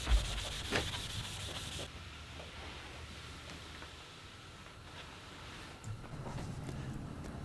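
Abrasive scrubbing of light rust from a metal tool machine surface, a steady rough rubbing that runs close and moderately loud through the whole stretch, briefly stronger at the start and again near the end.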